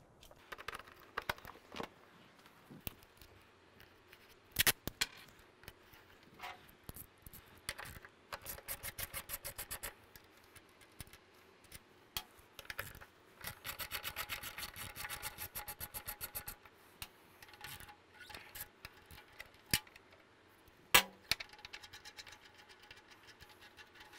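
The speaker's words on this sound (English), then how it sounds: "Let's take the case off and take the bolts out and go from there." Case and bolts come off the rear of a BMW K1600 GT/GTL motorcycle, with quiet rubbing and rasping plastic, metallic clicks and jangling hardware in intermittent bursts, close up with no talk.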